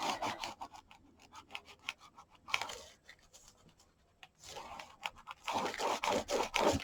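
Paper is burnished onto a gift box by hand, in soft scraping and rubbing strokes that come in short irregular bursts, quiet and close, with a denser stretch of rubbing at the end.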